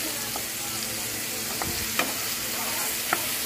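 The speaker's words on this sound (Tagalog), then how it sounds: "Igisa muna natin yung ating mga sahog para mas malasa" Pork liver and other ingredients for pork lomi sizzling steadily in a hot pan, with a few sharp scrapes and clinks as they are stirred.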